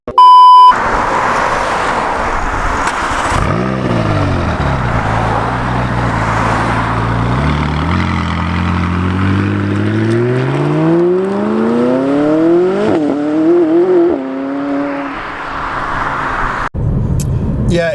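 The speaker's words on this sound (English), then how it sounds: "it's, as I say, flat plane crank, and when you start revving it" A McLaren 570S with a flat-plane crank V8 revving up loudly and close, its pitch climbing in several rising sweeps before dropping back, ending abruptly.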